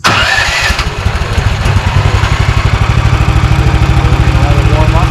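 A Jansen wood chipper's engine cranks and catches, then settles into a steady, loud, rapid mechanical chug that runs on close by with no break.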